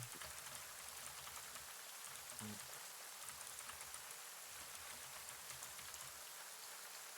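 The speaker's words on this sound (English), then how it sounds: "you both noticed the rain's getting harder" Rain falls hard and steadily in an even, hissing wash that stays fairly quiet and constant, with a few dull low thumps beneath it.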